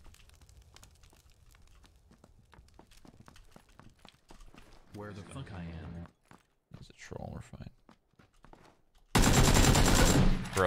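AK assault rifle fire in PUBG comes in rapid, fairly faint bursts of repeated shots, with a voice and other game sounds in between, ending in a loud blast of noise.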